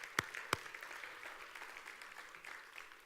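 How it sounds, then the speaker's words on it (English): Church congregation clapping at an Easter-season service, two sharp claps up front then a faint, scattered patter of applause trailing off across the room. "give them a clap."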